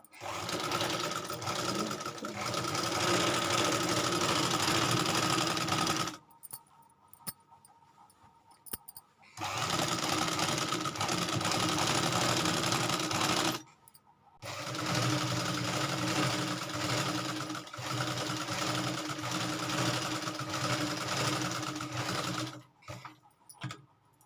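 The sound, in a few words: sewing machine stitching a salwar waistband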